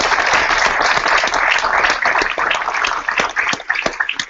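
A conference audience at an awards event gives a steady round of applause, dense overlapping clapping that stays loud throughout and thins slightly toward the end.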